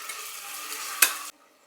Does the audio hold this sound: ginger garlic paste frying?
yes